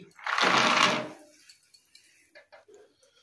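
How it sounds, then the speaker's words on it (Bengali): Soybean chunks are poured into a pot of hot water: a close, rushing splash lasting about a second, followed by a few faint knocks and clicks. "এবার সোয়াবিনটা এর মধ্যে আমি ঢেলে দিচ্ছি।"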